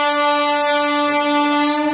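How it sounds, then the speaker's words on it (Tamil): A train sets off from Tambaram station, a loud, steady tonal horn-like drone holding an unbroken pitch for the whole stretch. "தாம்பரம் வரைக்கும் வந்து ட்ரெயின் ஆனது கிளம்புது"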